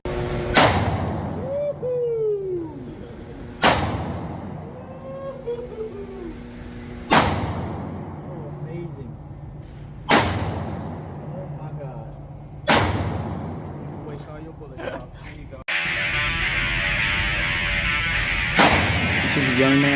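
Smith and Wesson AR-15 pistol fired at a shooting range, six loud sharp gunshots spaced about three seconds apart, each with a short echoing tail, over steady range ambience with faint background chatter.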